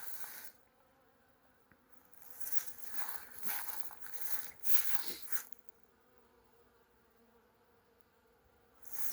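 Honey bees crawling out of outdoor wintering hives to relieve themselves, a soft buzzing that rises into a louder hum for a few seconds mid-clip, then falls back to faint background, with no talk.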